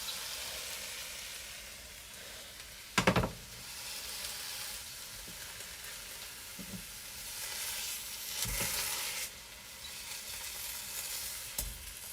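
Steak sizzling in a pan for Thai red curry, a steady close frying hiss with occasional pops and stirring clanks.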